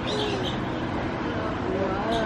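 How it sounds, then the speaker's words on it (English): Loud birds call inside a zoo enclosure, cooing and chirping notes rising over a dense, busy background of ambient noise. "These ones are really loud in here. Loud birds."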